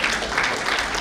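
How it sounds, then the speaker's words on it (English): An audience at a business and leadership forum launch in Tanzania applauds a moderator, a brief, loud, even burst of many hands clapping. "Let's clap for our moderator"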